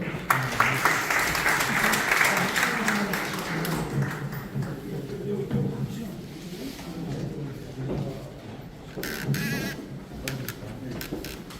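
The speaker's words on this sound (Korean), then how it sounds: "큰 박수로 맞이해 주십시오." Audience applause welcoming panelists at a Korean policy forum, a dense, steady clatter of many clapping hands filling the whole stretch, loud at first and easing slightly, with a few voices mixed in.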